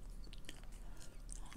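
Sugar-free Extra original flavor bubble gum being chewed up close, with soft, wet, crackling chews and bites repeating steadily, fairly quiet over a low background hum.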